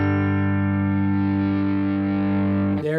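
An electric guitar runs through a Wampler Brent Mason signature drive pedal. One sustained, distorted note or chord rings loud and steady for a few seconds, then breaks into a brief scratchy change at the end.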